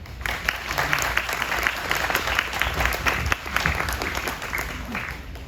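Anniversary celebration crowd clapping in a hall, a dense, continuous burst of hand claps with individual sharp claps standing out, sustained for several seconds.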